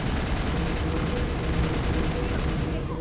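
Cannon fire in the Mass Effect video game: a dense, continuous barrage of booming blasts and rumbling low-end explosions with no pause, loud throughout the clip.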